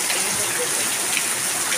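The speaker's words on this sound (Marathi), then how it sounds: "इथं बघू शकता पाऊसही खूप असा पाऊस लागलेला आहे" Heavy rain pouring steadily in the evening, a dense loud hiss of falling water with no breaks, filling the short stretch evenly.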